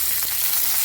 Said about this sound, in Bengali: এখন গরম তেলে অল্প আমি পাঁচফোড়ন দিয়ে দিই, সাথে